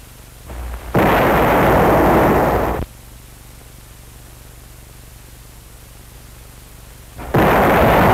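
A bazooka fired during 1950 army infantry training at Camp San Luis Obispo: a sudden loud roaring blast that holds for about two seconds, then cuts off, followed later by a second heavy burst starting near the end.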